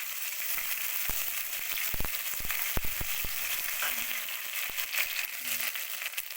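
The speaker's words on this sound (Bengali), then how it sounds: "আদা জিরে বাটা দিয়ে দিলাম" Ginger and cumin paste hits hot oil in a vegetarian curry, giving a steady close sizzle broken by sharp crackles and pops scattered throughout, with a couple of faint tonal hums, no talking.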